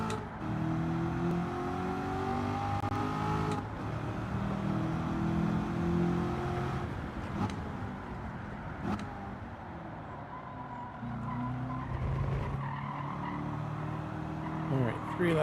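A 2001 Corvette Z06 (C5) racing in Gran Turismo 7, its engine droning steadily with shifting pitch over several laps, moderately loud under game sounds and a faint voice.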